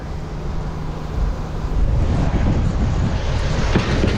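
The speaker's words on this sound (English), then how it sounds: "I apologize for the wind because it's a little windy." Steady gusts of wind on a farm buffet the microphone, a loud low rumble that swells and grows stronger partway through.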